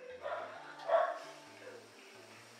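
A dog, just arrived home with children from school, gives a few faint barks and yips indoors while people talk quietly nearby.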